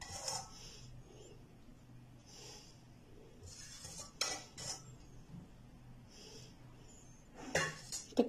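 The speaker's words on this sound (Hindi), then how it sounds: "अभी हमारे पास जो शीरा बचा है उसके अंदर वो भी हम इसके ऊपर थोड़ा थोड़ा डाल देंगे" A spoon ladles leftover sugar syrup over tutti frutti pieces in a dish. Soft, intermittent metal clinks and scrapes sound quietly and close, with brief louder taps.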